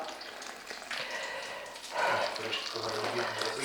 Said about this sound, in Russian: Наливаю детям горячий чай, чтоб остывал.